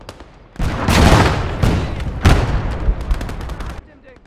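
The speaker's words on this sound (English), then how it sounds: "was a big gun firing, and that was not one of ours" Heavy gunfire in Call to Arms: Gates of Hell: a loud, booming barrage of several big-gun blasts and rolling reports over about three seconds, with rumbling tails fading out at the end.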